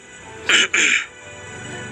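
A short, sharp throat clearing in two quick bursts, close and fairly loud, then quiet.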